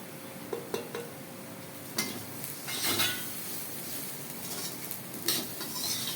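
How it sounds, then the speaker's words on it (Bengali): Split green chillies and khichuri spice being sautéed in a pan, with a soft steady sizzle broken by a few sharp clinks and scrapes of a spoon stirring against the metal, close up and with no talking. "চেরা কাঁচা লঙ্কা দেবো 5-6টা। আর একটু কষিয়ে নেব।"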